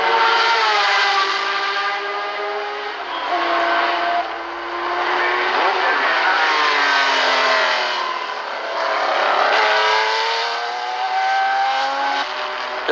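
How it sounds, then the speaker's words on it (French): The Matra number 7 race car roars at Le Mans in the Sarthe, its engine holding a steady high-revving howl whose pitch swells and dips continuously as the car sweeps past. "la Matra numéro 7 a repris son rythme de croisière et va pouvoir dérouler jusqu'à l'arrivée"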